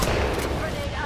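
Gunfire in the battle royale game Apex Legends, a dense continuous crackle of shots filling the second, with a voice talking over it.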